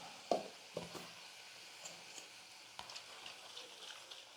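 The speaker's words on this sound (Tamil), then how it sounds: "கொதிக்க கொதிக்க சட்னி வந்து கெட்டியாகிடும்." Spicy chutney boils and bubbles in a pan, giving a soft sizzling, crackling bed with scattered pops and small stirring clicks, fairly quiet and close.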